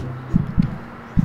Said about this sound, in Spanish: Mis latidos están muy rápidos.